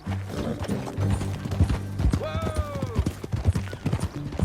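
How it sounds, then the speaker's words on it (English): Horse hooves clip-clop steadily in Red Dead Redemption 2, a close, regular rhythm with a brief whinny partway through and soft background music. "That a new horse?"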